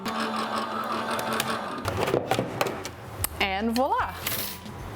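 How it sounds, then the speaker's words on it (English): A Gemini electric die-cutting machine feeds a fabric and plastic-shim die sandwich through its rollers with a busy mechanical whirr and clatter. A rising and falling whine near the end sits under a brief spoken remark. "I'm just gonna run it through the Gemini. No cranking, it does all the heavy lifting."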